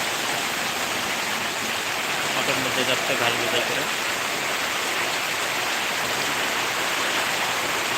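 A heavy downpour pours down as a constant loud hiss of rain, unbroken from start to finish, while someone talks over it.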